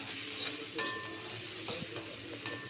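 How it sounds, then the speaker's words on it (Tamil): Onions sauté with cumin seeds in a pan, a quiet continuous sizzle with a few scraping stirs and light clinks of a spatula, heard close with no talking. "வெங்காயம் நல்லா வதங்கட்டும்"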